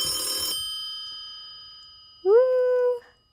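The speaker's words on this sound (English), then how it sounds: "Oh, the phone is ringing." A telephone rings once with a bright electronic tone that rises and then holds for about three quarters of a second. It sounds close and clear, following a short burst of noise and a long quiet stretch.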